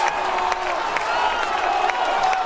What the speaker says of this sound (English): Look at the crowd. Go wild.